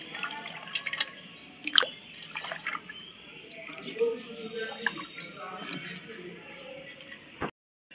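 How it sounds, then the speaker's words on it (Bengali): Water poured into a pan over cut green jackfruit and eggs set for boiling, a soft dripping, splashing pour with scattered clinks, close by, then a sudden stop near the end. "এঁচোড় আর ডিম এখন আমি সেদ্ধ করে নিতে আমি জল দিয়ে দিচ্ছি।"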